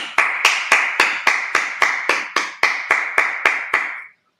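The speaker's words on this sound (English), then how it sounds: "All right, let's clap it up." A group claps in steady unison at a brotherhood class gathering, about a dozen sharp, evenly spaced claps that are close and loud and then stop abruptly.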